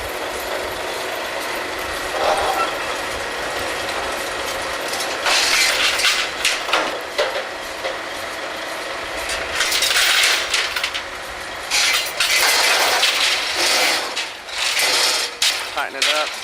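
Drilling rig tongs clamp and tighten a pipe connection on the rig floor, giving bursts of loud metallic clanking, ratcheting and whirring machinery over a steady mechanical drone, with a few faint voices in the background.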